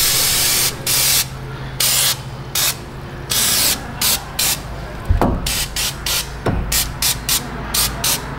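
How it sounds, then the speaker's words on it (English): Fluid Film lubricant sprays from an aerosol can onto a Jeep Wrangler front axle in a series of short, close hissing bursts, with a couple of metallic clicks between sprays. "Let's get the fluid film."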